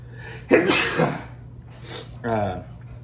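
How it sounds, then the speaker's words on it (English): A single loud, close sneeze bursts out, followed by a softer breathy sound a moment later. "to sneeze, I'm sorry."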